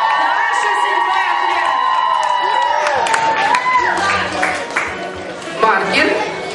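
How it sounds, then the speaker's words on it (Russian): A young audience at a children's Mister and Miss contest cheers and claps for a contestant's outfit, a loud burst of shouts, whoops and applause, with an announcer's voice speaking over it. "я думаю, наряд тоже заслуживает аплодисментов"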